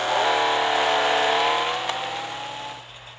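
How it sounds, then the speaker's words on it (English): A 1984 Ferrari Testarossa engine in the racing game Real Racing 3 revs loudly and close, holding a steady rising tone before easing off and fading over the final second. "Up next is my 1984 Ferrari Testarossa."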